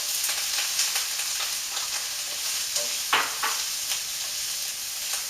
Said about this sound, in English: we're going to put 1 tablespoon of butter in the saucepan. And then we're going to add our 1 cup of onions